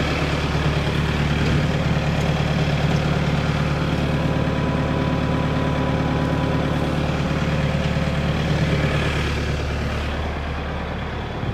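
LS MT242H tractor fitted with a backhoe, its engine running in a steady, loud, close drone throughout, easing off slightly near the end.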